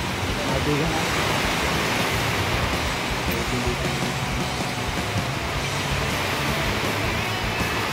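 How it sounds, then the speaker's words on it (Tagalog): Heavy rain with some wind pours down in a dense, steady hiss that stays loud and unbroken throughout. "Grabe ang lakas ng ulan, mga kababayan."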